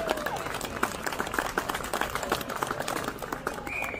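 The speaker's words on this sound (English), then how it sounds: "give those guys a big round of applause." Steady applause from a crowd at an outdoor truck and rod show, with many claps blending into a continuous patter while some talk carries on underneath.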